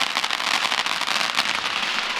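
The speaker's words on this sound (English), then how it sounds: "Fireworks go off when you say to subscribe." Fireworks bursting outdoors at a wedding celebration, a dense continuous crackle of popping bursts filling the whole stretch without pause.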